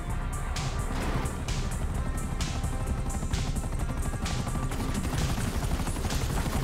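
An enemy helicopter in GTA V thunders close by with a dense, steady roar, mixed with rapid chopping bursts and possible gunfire throughout.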